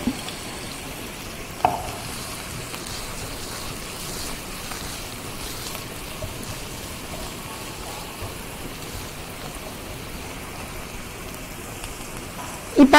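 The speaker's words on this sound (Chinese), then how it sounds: "一般我们在爆香就是说它的食物的香气出来了就 OK 了" Shiitake mushrooms stir-fry in a hot pan, giving a steady close sizzle like rain on a surface, with a couple of brief utensil knocks and no talk.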